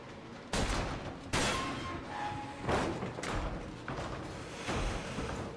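Repeated gunshots in the zombie survival game Deadlight, five or six loud blasts spaced about a second apart, each with a sharp crack and a short booming tail, at close range with no talk over them.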